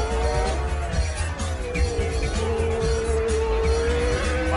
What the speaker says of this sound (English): then came a host of single-seater Formula One cars, all going under 50 seconds